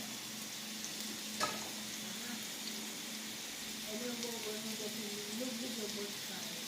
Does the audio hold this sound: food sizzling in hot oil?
yes